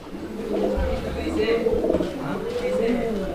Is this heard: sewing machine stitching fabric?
no